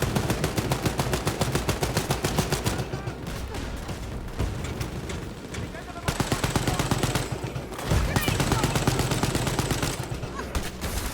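Rapid, sustained automatic gunfire from the shooter game Wolfenstein: Youngblood, loud and dense bursts of rattling shots continuing almost nonstop with brief lulls, with no voices.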